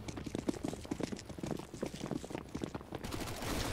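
MP7 submachine gun fire in CS:GO, rapid bursts of shots crackling repeatedly through the whole stretch, moderately loud and busy with other game noise.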